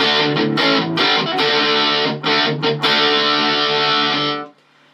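Electric guitar played through a Coolmusic C-DI01 distortion pedal, loud saturated sustained chords with a few brief re-strikes, cutting off sharply before the end.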